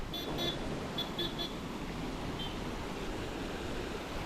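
Steady rushing water fills the clip, a broad continuous wash with faint wind, as the Visvesvaraya irrigation canal in Mandya flows full nearby; a few high beeps sound early on.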